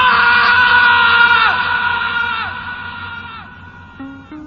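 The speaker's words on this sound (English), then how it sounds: "only his ear-splitting scream filled the air." A man lets out a loud, ear-splitting scream that is sustained and then trails off, its pitch sliding downward as it fades.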